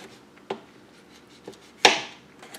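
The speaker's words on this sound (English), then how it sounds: "Then I am going to cut this lemon in half." A knife cuts through a lemon on a board in a kitchen, a few soft taps followed by one sharper, louder chop, close and dry, with no one talking.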